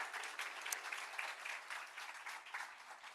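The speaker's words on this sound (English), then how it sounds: "So, applause to the Commission." An audience at a festival gathering applauds with steady, moderately faint clapping that lasts through the whole short stretch.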